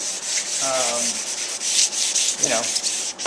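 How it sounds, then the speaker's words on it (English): Fine 1200-grit sandpaper rubbed over a wooden buffet table surface to knock off raised grain nibs, a soft steady hiss of light strokes heard close up with no talking. "Alright, so I've got some super fine sandpaper. This is 1200 grit."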